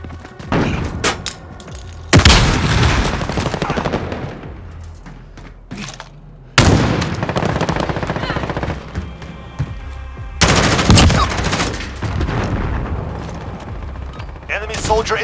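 Gunfire in a first-person shooter game played with a Steam Controller: loud bursts of rapid automatic fire come in several long volleys separated by brief quieter gaps, with mechanical clanks and thuds between them.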